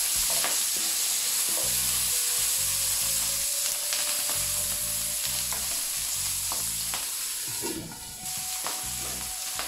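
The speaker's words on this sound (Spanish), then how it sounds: "La panceta tiene la mala costumbre de saltar, por lo tanto, de vez en cuando," Pork belly sizzles and spits in a frying pan, a steady loud crackle with intermittent scraping stirs, close and continuous with no talking.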